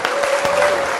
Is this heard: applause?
yes